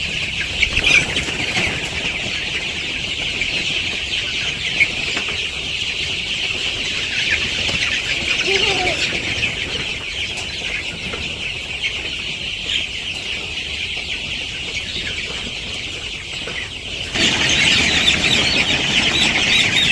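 A crowd of village chickens flap their wings noisily and cluck while perched on a bucket eating, a dense continuous commotion that swells louder toward the end, with no voices.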